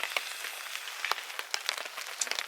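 Steady rain patters on a nearby surface at a lakeside wild campsite, with scattered sharper drops tapping over a soft continuous hiss.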